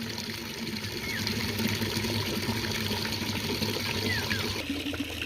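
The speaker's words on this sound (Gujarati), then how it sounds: "પાણી ભરાવાનું ચાલુ થઈ ગયું છે" Water running steadily into a container on a farm, a continuous mid-level gush and trickle with a faint mechanical hum underneath, lasting throughout without talk.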